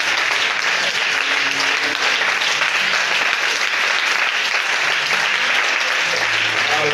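A church congregation at a French-language worship service applauds and cheers loudly for Jesus, a dense, sustained wash of clapping and shouts with no break.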